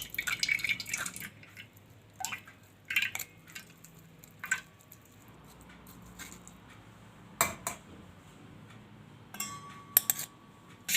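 Spiced pani puri water being strained through a strainer into a vessel, with intermittent drips, light trickles and metallic clinks of utensils, close and fairly quiet, separated by short pauses.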